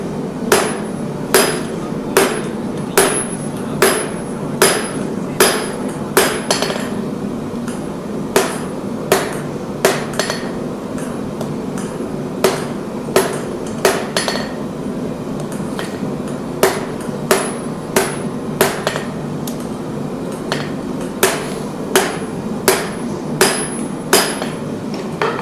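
Hammer blows ring out while forging the tang of a knife blade in a smithy, sharp metallic strikes in quick bursts of several hits separated by short pauses, moderately loud and close.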